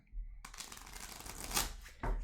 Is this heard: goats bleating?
no